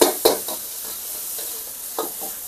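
Onions and chili paste sauté in a pan with a continuous sizzle, broken by a few sharp spatula scrapes and taps as they are stirred, close and clear.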